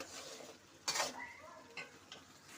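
A spoon scrapes and stirs thick tamarind rice paste in a frying pan, with a sharp clatter near the start and a few softer scrapes after it, over a low sizzle.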